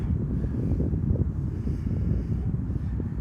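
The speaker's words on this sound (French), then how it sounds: "Il y a du vent." Strong wind buffets the microphone with a continuous low rumble, steady and loud throughout with no voices.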